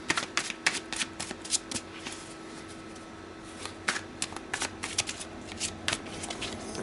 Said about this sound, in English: so let me shuffle the cards